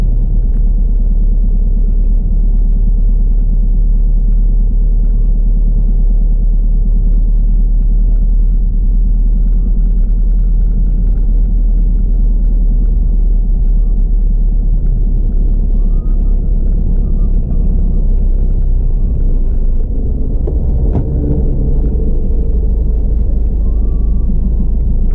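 Road traffic in Benguet heard as a continuous loud, low engine rumble from vehicles nearby, steady throughout with no talking.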